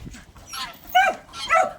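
A dog that goes after every living thing barks and yips close by on a farm where guinea fowl and quail are kept, sounding several short, moderately loud barks over faint background noise.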